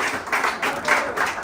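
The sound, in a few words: audience applause for the BAI team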